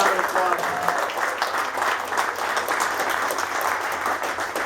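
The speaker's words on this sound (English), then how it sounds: "give Lauren another round of applause" Steady, dense applause from an audience at a political gathering, filling the whole stretch at an even level with no gaps.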